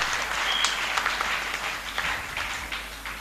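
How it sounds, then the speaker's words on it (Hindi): Children at a Bharat Scouts and Guides event in Deoband applaud the scouts, giving a steady, moderately distant wash of many hands clapping that lasts throughout. "क्लैप्स को ताली बजाते रहे, इनके जज्बे को बढ़ाते।"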